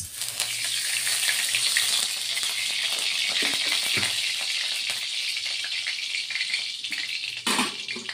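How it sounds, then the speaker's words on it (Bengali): Oil poured into a hot wok for a vegetarian potato and drumstick dish, sizzling in a bright continuous hiss with a few crackles and clinks, fairly close and with no talking. "কড়াই গরম হয়ে গেছে, এখন কড়াইতে তেল দিয়ে দিচ্ছি"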